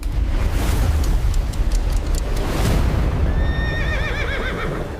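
A horse neighs in a rising, quavering whinny while hooves clip-clop steadily on a hard surface, loud and close.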